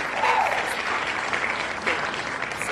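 Applause from a small crowd, a dense continuous patter of clapping at moderate loudness lasting the whole stretch, with no distinct voices over it.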